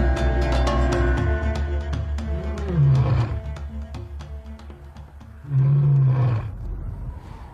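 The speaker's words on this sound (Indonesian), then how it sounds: "Itu suara singa." A lion lets out two deep, rumbling roars a few seconds apart, strong and fairly close, over a quiet outdoor background.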